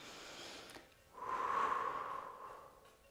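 A single audible exhale during a gentle stretching exercise in a mobility class, close and soft, a breathy rush lasting about a second with no speech.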